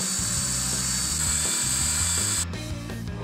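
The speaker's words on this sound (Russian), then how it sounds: "просверливаем 2 отверстия крепления платы" A power drill bores mounting holes for a circuit board in a homemade Tesla coil build, whirring loud and steady up close, with a change in tone as the bit pauses.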